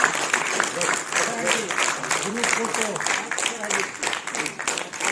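An audience claps at an honoring ceremony for disabled people in Gautam Buddh Nagar, India. A steady patter of applause runs under someone speaking loudly over it.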